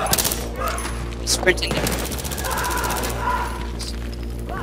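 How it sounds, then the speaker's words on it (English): Gunfire rattles in Battlefield 3 as a run of loud, close shots and bursts over a constant low rumble, with a player talking over part of it. "I don't appreciate you shooting at me and my friend"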